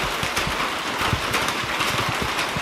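Steady hiss of rain falling on a surface, with scattered low patters and taps, constant and fairly close throughout.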